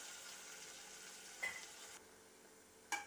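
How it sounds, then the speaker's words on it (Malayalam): Tomatoes cooking in a pan for rasam give a faint, steady sizzle, broken by two brief clinks of a spoon against the pan. "ഇതിലേക്ക് നമുക്ക് തക്കാളി ചേർത്ത് കൊടുക്കാം. തക്കാളി ശരിക്കൊന്ന് വേവിച്ചെടുക്കണം"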